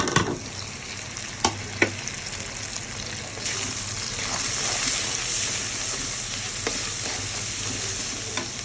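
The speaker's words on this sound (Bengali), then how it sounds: "আমি প্রথমে পেঁয়াজটা ভাজা ভাজা করে নিলাম।" Onions sizzle and fry in a pan with turmeric, salt and chili powder, a steady close hiss with scraping stirs and a few sharp clicks of the spoon against the pan.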